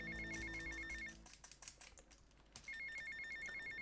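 Phone ringing in Grand Theft Auto Vice City, a repeating electronic ring tone in bursts at the start and again near the end, with a busy gameplay stretch between rings.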